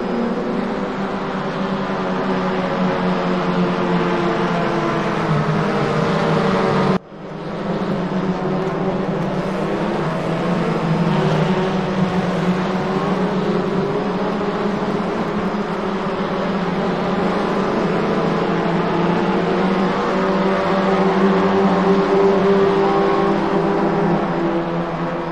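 A WTCR touring race car laps Slovakiaring, understeering through long fast corners. Its engine gives a loud, continuous drone with a brief sharp dropout early on, then holds steady with no voices.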